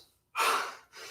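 After a heavy dumbbell leg workout, a person takes a sharp, loud gasping breath in, followed by a quieter second breath, close to the mic.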